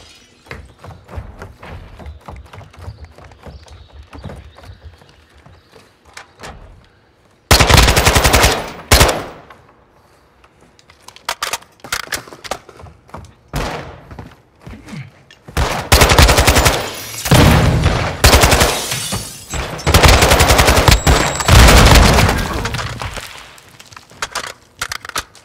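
Heavy automatic gunfire erupts in a Search and Destroy match of a shooter video game, with loud sustained bursts traded back and forth, separated by quieter stretches and scattered single shots.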